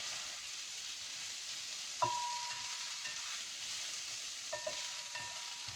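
Onions frying in a pan for a Filipino dish: a steady, close sizzle with two light utensil clinks against the pan partway through.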